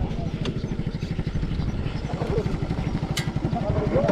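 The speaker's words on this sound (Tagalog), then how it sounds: "Yung motor, gumagana pa." A motorcycle engine still running after a crash on a potholed road, a close, steady rhythmic idle putter throughout, with a voice speaking over it.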